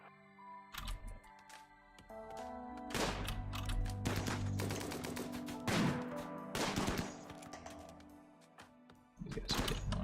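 Gunfire during a Rimworld video game firefight comes as a series of sharp, irregular shot bursts mixed with other game effects and a steady musical tone in the background.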